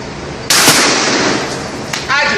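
Shotgun fire in a video game, a loud sharp blast followed by a long noisy decay, then a second shot near the end, heard up close.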